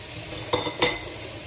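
Bacon sizzling in a frying pan with two short scraping stirs against the pan over a soft, steady frying hiss.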